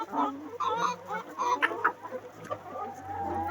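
Chickens cluck nearby in short, irregular bursts, a lively flock murmuring and calling over a quiet background.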